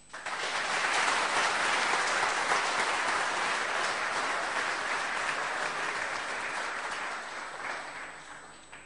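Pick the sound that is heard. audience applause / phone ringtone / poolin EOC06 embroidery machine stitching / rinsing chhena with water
audience applause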